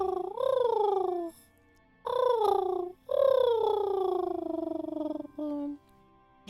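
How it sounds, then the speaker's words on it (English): Bird calls in the video game Library of Ruina, three drawn-out, wavering cooing notes with a shorter fourth, clear and close, with pauses between them. "Bird sound delivered."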